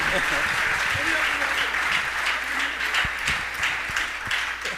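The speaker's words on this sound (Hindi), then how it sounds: "तालियां अच्छे से बजाइए।" Audience applause at a Jain religious Q&A gathering with Muni Pramansagar, a steady dense wash of clapping that holds loud throughout without clear breaks.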